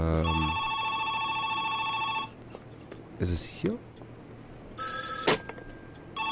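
A telephone rings in the video game Joe's Diner, a bright, electronic ringing bell that stops early and comes back later, while someone talks over it.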